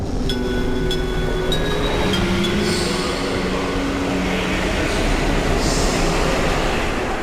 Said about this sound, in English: After which we pair it with various train-related sounds